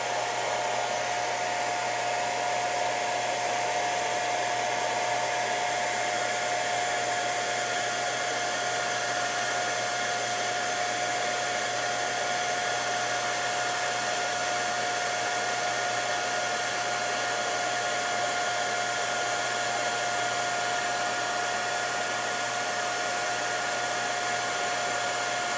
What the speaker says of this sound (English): I'm gonna hit it with the dryer real quick. And I put the dryer on a low setting.